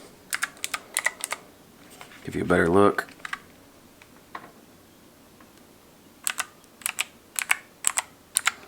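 Keys and buttons pressed on a SteelSeries Apex 5 keyboard with an aluminum frame, light keys and a notched volume rocker. Close, crisp clicks come in quick bursts, with a voice speaking briefly in the middle.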